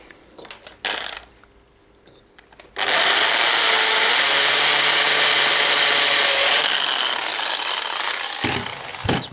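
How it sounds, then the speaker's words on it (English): A power drill drilling out a rivet whirs loudly and steadily for several seconds after a few brief clicks and starts, then cuts off abruptly near the end as the loose bit slips into the chuck. "It's my drill bit disappearing into the drill because I didn't tighten it properly."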